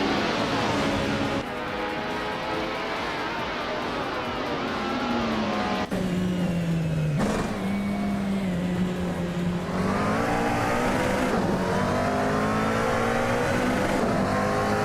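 Race car engines in a racing video game, including a 2000 Ferrari F333, drone and whine continuously, pitch rising and falling through shifts and revs, with several cars layered close together and no talk.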